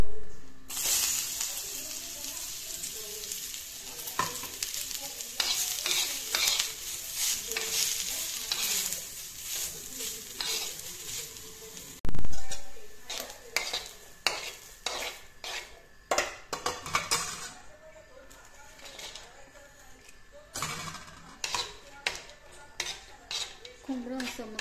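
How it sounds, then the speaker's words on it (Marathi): Grated coconut, chillies, onion, ginger, garlic, coriander and lentils being dry-roasted in a pan: a soft sizzle with repeated scraping and clinking of a metal spoon against the pan, close and irregular. "खोबरं असं मस्त परतवून घ्यायचं।"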